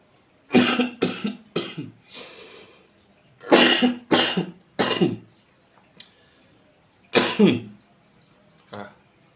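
Several harsh coughs in clusters, close and loud, separated by short pauses with some throat clearing.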